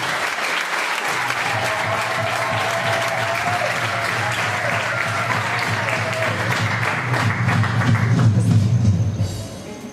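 An audience at a choir concert by the chorale Voix des Anges applauds steadily, a dense wash of many clapping hands that holds for several seconds, swells slightly near the end, then fades, with faint voices underneath.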